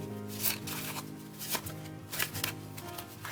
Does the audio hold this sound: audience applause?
no